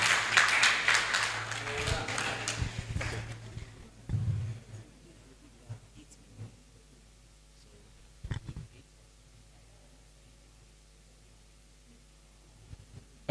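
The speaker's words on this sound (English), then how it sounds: "A round of applause for team outcome." An audience at a breakfast gathering claps for a team, a dense burst of applause that lasts about three seconds and then fades into a few scattered claps, with brief talk in between.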